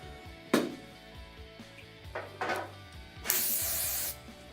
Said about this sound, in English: And use hairspray.